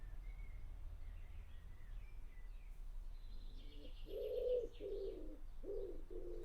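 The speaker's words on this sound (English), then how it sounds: "Hope you're enjoying the pigeons, everyone." Pigeons cooing nearby, a series of several soft, throaty coos in quick succession toward the end, with faint chirps earlier over quiet background hum.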